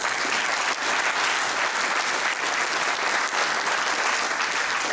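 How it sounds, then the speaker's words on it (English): A large audience applauds steadily and loudly at a VIA Rail Canada service recognition event, a dense even wash of clapping lasting throughout. "To all of you, then, a round of applause,"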